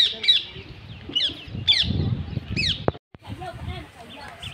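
Morning parrots squawking outdoors, four sharp raspy calls spaced about half a second apart, then softer chatter in the background, with someone speaking over the birds.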